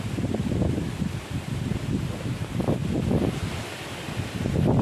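A standard electric fan blows, steady, loud rushing of air close to the microphone, a continuous breathy roar with no voices.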